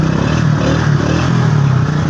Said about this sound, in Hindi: एकदम मोटरसाइकिल का शोर बहु है